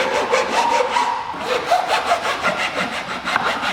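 A hand rasp scraping steadily along the cut edge of a camera retrofit cutting template, a continuous close rasping with repeated strokes and no talk.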